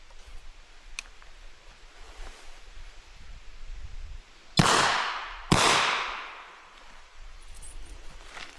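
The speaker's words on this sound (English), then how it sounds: "So first shot we're going to cock it," Two sharp, loud shots ring out about a second apart from a British double-action revolver, each crack followed by a short decaying echo, with quiet background in between.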